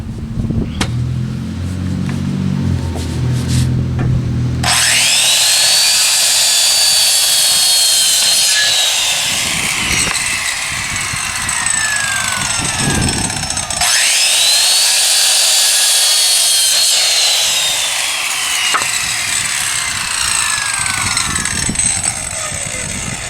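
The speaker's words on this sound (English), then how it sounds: "let me go ahead and measure and cut these" A power saw whines up and bites through wood boards twice in long, loud passes, the pitch dropping as each cut goes on, with workshop noise between.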